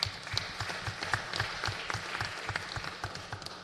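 Audience at a city planning and land use committee meeting applauding, a fairly faint, steady patter of many hands clapping throughout with a few louder claps standing out.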